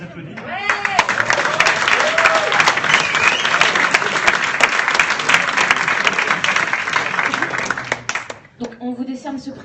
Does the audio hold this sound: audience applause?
yes